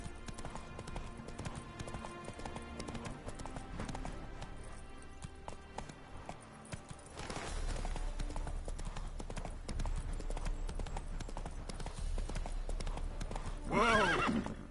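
Horse hooves clip-clop in a steady trotting rhythm in The Witcher video game, with game music underneath and a neighing whinny near the end, all fairly loud and close.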